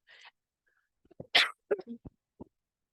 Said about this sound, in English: I'm going to try to keep the coughing to a minimum.